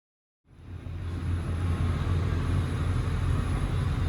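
An LT1 383 V8 on an engine dyno starts from silence and settles into a steady, loud, rumbling idle with a deep continuous throb and a broad roar of room noise, no voices.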